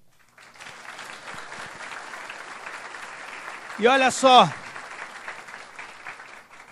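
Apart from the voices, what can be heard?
congregation applauding in church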